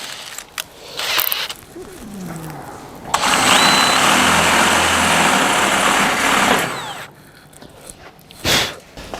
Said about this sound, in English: I gotta drill up a size.